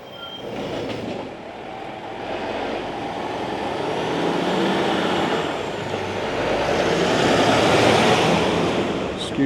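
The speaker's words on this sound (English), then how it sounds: "Excuse the lorry noise." A lorry rumbles past near a stadium construction site in Manchester, its heavy, droning noise swelling gradually and peaking close by near the end, with no speech.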